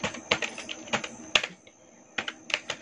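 Keys tap on a computer keyboard in short uneven bursts of sharp clicks, close and clear, with brief pauses between groups of strokes and no talking.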